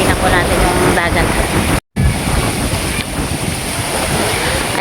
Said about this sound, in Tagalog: medyo malakas po yung hangin dito